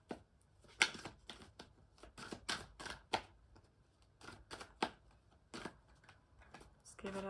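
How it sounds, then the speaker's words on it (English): Tarot cards are shuffled in quick riffling bursts, close and crisp, with short pauses between bursts. "give it a shuffle"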